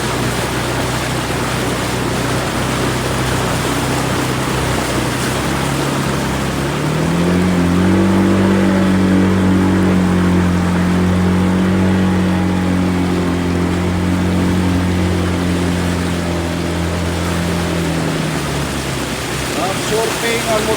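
A motorcycle engine hums low and steady through deep floodwater during heavy rain in Negros Occidental, with rain hiss and splashing water throughout and the engine tone rising and holding midway before fading.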